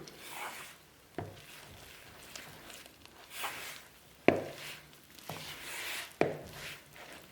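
Flour and water dough for a simple bread being mixed in a bowl, with sharp utensil knocks against the bowl and soft scraping and stirring strokes at an uneven rhythm, close and fairly quiet.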